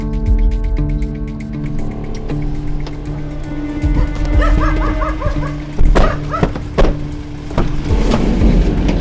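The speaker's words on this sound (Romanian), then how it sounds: "Țineți, câinii țineți." Dogs bark in short sharp bursts amid a busy outdoor scene during an ambulance call-out to an unconscious person, with engine and movement noise running underneath and a few scattered knocks.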